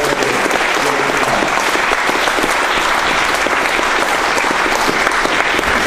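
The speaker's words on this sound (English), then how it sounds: "let's give him a big round of applause" Conference audience at the ebbc12 keynote gives Stuart Howe a big round of applause: loud, dense, continuous clapping throughout.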